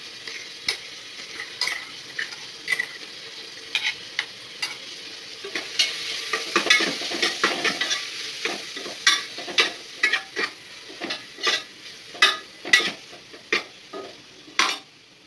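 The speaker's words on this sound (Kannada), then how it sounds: "ಎಣ್ಣೆ ಒಳಗೆ ಅದೆಲ್ಲ ಹಸಿ ವಾಸನೆ ಹೋಗೋವರೆಗೂ ಫ್ರೈ ಮಾಡ್ಕೊತೀನಿ" Chillies and spices frying in hot oil with a steady sizzle, punctuated by repeated sharp clinks and scrapes of a spoon stirring against the pan.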